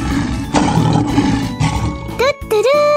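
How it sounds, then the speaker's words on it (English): A lion's roar rises over a busy, looping backing of music and toy-like tones, loud and close, with a few sliding electronic chirps near the end. "Lion!"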